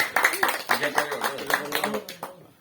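Clapping at an official handover ceremony, a few sharp, irregular claps mixed with voices and lively talk, fading out at the end.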